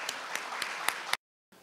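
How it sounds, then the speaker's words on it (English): Audience applause for a performing ensemble, a short burst of clapping with a few sharp individual claps standing out, fairly faint, cutting off abruptly before a brief quieter tail. "Give them a well-deserved round of applause."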